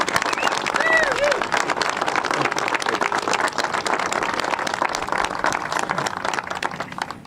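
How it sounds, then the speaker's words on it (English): Audience applause for a state governor at a port event in Florida, a crowded room of clapping that stays loud and fairly even, with voices mixed in throughout. "please give the Governor a big round of applause."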